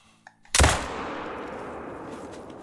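A single loud Hansen rifle shot fired at a 150-meter target in theHunter: Call of the Wild, a sharp crack followed by a long rumbling echo that slowly fades, with no voices.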